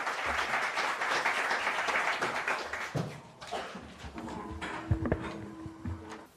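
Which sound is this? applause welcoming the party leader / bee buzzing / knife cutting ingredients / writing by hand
applause welcoming the party leader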